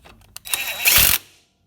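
A power tool briefly tightens a bolt on a vehicle, a short close whirring and rattling burst of about a second that stops abruptly.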